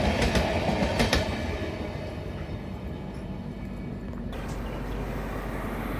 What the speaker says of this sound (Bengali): ট্রেন পৌঁছে গেল জাজপুর কেওনঝড় রোড।